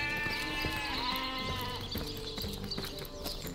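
Sheep bleat in the fantasy role-playing game Divinity: Original Sin, several wavering calls overlapping over a busy background of game sounds, fairly close.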